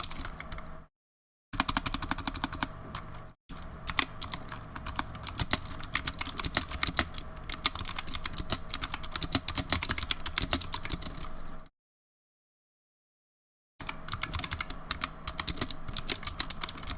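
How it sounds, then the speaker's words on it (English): Fast, continuous clacking keystrokes from a Razer Huntsman Mini keyboard, close and crisp, with brief silent pauses between bursts of typing. "I'm just gonna type away"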